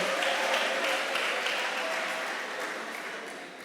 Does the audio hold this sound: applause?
yes